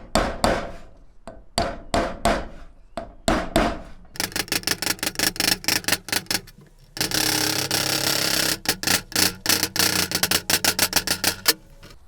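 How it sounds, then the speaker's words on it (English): Repeated hammer taps on the edge of a rear axle seal on an 80 series Land Cruiser, sparse at first then coming in quick, steady bursts of close, sharp strikes on metal with no talking. "You only want to hammer right on the very edge."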